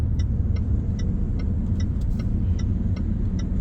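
Inside a car joining a motorway, a constant low engine and road rumble fills the cabin while a regular ticking, like an indicator, clicks along steadily above it.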